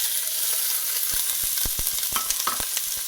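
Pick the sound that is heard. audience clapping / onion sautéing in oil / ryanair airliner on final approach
onion sautéing in oil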